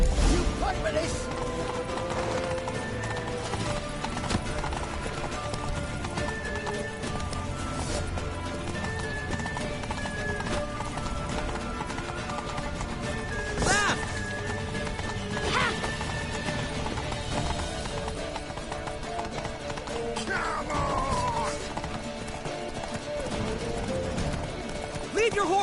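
Galloping horse hooves in The Witcher 3 pound steadily through a chaotic battle scene, with neighing, crashes and shouting voices layered over the rhythmic clip-clop.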